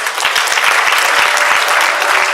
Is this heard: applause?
yes